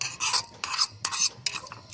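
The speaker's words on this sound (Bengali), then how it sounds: "এগুলোকে একটু নেড়ে নিচ্ছি" Whole spices being stirred as they lightly fry in a pan: about five rhythmic scraping strokes of a utensil against the pan, close and distinct, with a faint sizzle between them and no talking.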